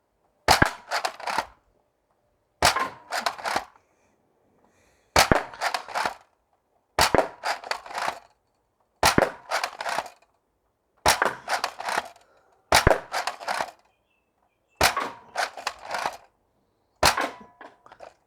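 An X-Shot Skins Pro Series Longshot toy blaster fires long foam darts in nine sharp, snappy shots spaced a couple of seconds apart, each with a brief plasticky rattle, close by with quiet gaps between.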